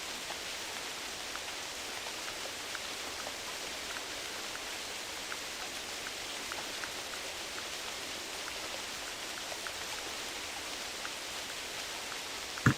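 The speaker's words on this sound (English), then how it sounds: "You can hear the sound of the rain making weird sounds, like audio glitch sounds." Continuous rainfall in theHunter Classic, a hunting video game, forming a constant broad hiss with faint scattered patter and a brief click at the very end, no voices.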